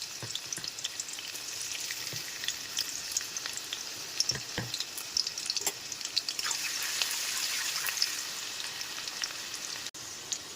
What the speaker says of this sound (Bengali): প্রথমে কড়াইতে সাদা তেল নিয়ে নিয়েছি, আর বেশ কিছুটা রসুন কুচি করে সেটাকে ভেজে নেব